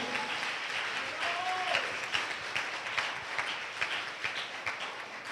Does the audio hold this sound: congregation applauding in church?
yes